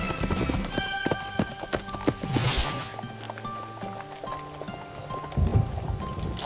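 Cartoon horse hooves clip-clopping at a slow walk, with a light patter like rain and faint background noise; no one speaks.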